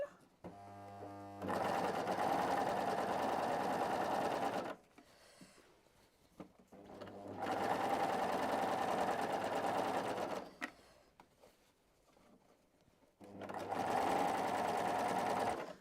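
A sewing machine runs in three long bursts while stitching a seam on Christmas pajamas, each steady, loud whirring run separated by quieter pauses of handling.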